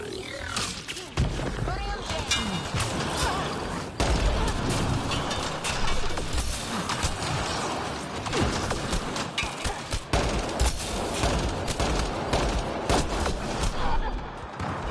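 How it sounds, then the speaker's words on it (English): Rapid bursts of sci-fi gunfire rattle almost nonstop through a firefight against Remnant enemies in the video game Mass Effect Andromeda, loud and dense with heavy impacts layered over a rumbling game soundscape. "Where am I getting fucking shot from?"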